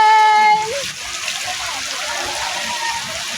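Water from a resort shower at a dinosaur-themed park's eco zone splashes steadily in a dense, hissing wash after a brief tonal sound at the start, close and continuous.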